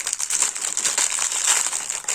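Cheap plastic packaging of a 60-piece screwdriver bit set being opened, giving a steady close crinkling and crumpling of thin plastic that runs continuously for about two seconds with no talking.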